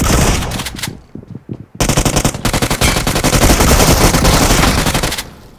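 Machine gun fire during a video game firefight, loud close rapid bursts of automatic shots, a short pause with a few scattered rounds, then a long continuous stream of fire.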